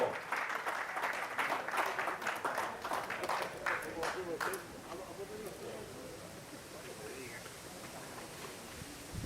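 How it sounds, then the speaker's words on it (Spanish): A crowd at a horse auction applauds after a lot is sold, a burst of clapping in the first half that fades into murmuring voices and room noise, heard from some distance. "fuerte el aplauso"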